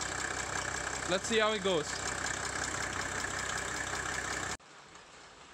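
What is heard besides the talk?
diesel engine idling with ticking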